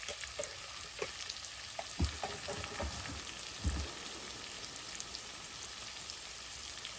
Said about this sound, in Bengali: স্বাদ মতো লবণ দিয়ে আমি ভালোভাবে একটু কষিয়ে নিই